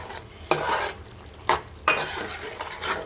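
Mushroom curry with coriander being mixed in a pan, a gentle sizzle underneath with three distinct scraping clanks of a spatula spaced about a second apart, close and quiet with no voices.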